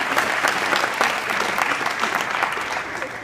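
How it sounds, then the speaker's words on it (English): Families and guests at a high school athletic signing day ceremony applaud, a loud, sustained crowd clapping with scattered sharper claps and faint voices mixed in. "So first off, a big round of applause for these guys."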